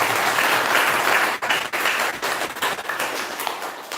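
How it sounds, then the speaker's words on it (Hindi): A group of people clap together during a meditation session, a dense steady burst of applause that thins into scattered claps and fades over a few seconds, loud and close. "अब ताली बजा लें, सारे एक्टिव हो जाएंगे।"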